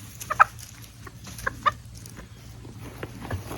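Chickens on a small hobby farm give a few short, clucking calls, with two sharper bursts standing out over a steady low background hum, fairly close and otherwise quiet.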